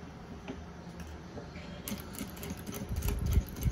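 A sewing machine starts stitching a seam on a fabric pencil case, its rapid mechanical ticking building to a steady, close run after a quieter start.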